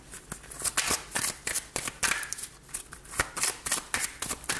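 Tarot cards being shuffled by hand at close range, a steady run of quick papery riffles and soft slaps repeating in irregular bursts without pause.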